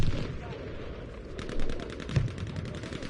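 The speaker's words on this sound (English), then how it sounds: "blasting him with the shotgun." Shotgun blasts in a Frontlines team shooter match, a few sharp reports at moderate loudness over a low rumbling game mix.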